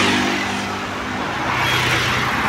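Steady roadside traffic with cars and heavier vehicles rolling past, a continuous close engine and tyre rumble filling the whole stretch with no speech.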